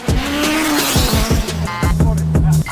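Kanjo street racing car in Osaka, Japan, heard as loud engine revs with sharp gear changes and bursts of tire noise, close and continuous for nearly three seconds.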